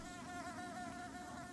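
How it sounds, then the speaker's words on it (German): Bees buzz steadily in a hive area of the video game Hollow Knight, a continuous droning hum with a wavering pitch, fairly quiet and close, with no voices. "Oder ist es einfach so ein Gebiet, was jetzt einfach nur Bienen sind, weil es auch Insekten sind?"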